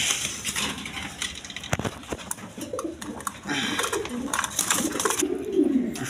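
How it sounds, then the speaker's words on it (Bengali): Two male pigeons give low, throaty coos close by against a busy market or loft background, with scattered rustling and brief clatters. "দোনোটা নর কবুতর।"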